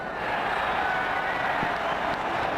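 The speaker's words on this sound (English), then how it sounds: "The crowd enjoyed that shot." A stadium crowd in the Ashes Cricket 2009 video game applauds a lofted shot over the infield, a steady, dense wash of clapping and crowd noise holding level for a couple of seconds.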